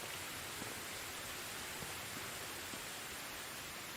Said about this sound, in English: Usually rain landing on soft dirt ground, though, isn't that loud.